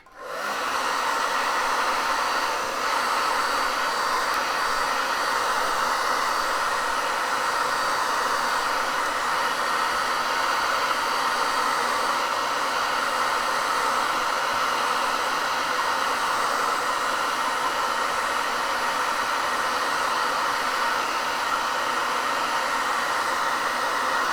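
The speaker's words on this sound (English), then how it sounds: "I'm going to try to use the hairdryer to maybe flatten it a little bit" A hair dryer blows steadily at close range, a loud, even whooshing roar that runs unbroken from start to finish.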